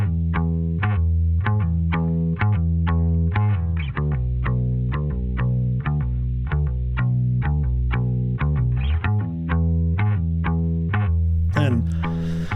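A bass progression run through a chorus effect, with hardcore-style riffs: repeated plucked notes in a steady rhythm, warm and wobbling, loud and close, with a brief noisy burst near the end.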